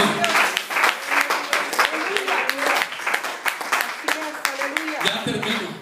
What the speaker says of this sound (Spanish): Démosle una ofrenda de palmas a Jehová.